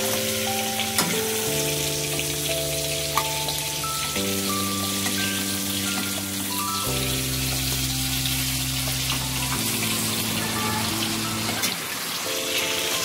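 Prawns fry in oil in a kadai, a constant soft crackle and hiss running beneath sustained background music chords.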